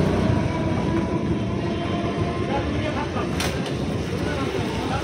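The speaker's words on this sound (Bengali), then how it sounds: "ট্রেন যাচ্ছে" A train rolling past a level crossing gate, a steady, loud, continuous rumble of rail cars with no distinct pauses.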